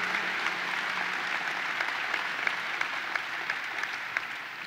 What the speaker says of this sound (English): Let's give them a round of applause, Junior Islanders and the Junior Sabres.